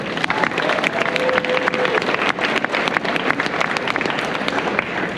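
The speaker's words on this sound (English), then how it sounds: "Give them a round of applause." An audience at a heavy equipment show gives a round of applause: dense, sustained clapping from many hands, fairly close and even throughout, with no talk on top.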